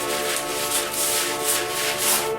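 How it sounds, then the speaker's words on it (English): A Durablock sanding block rubs across a guide-coated BMW 2002 body panel in primer, giving a steady, close rasping hiss of continuous strokes with slight swells in intensity and no talking. "Then you get your Durablock, your sanding block, and you just commence to sanding."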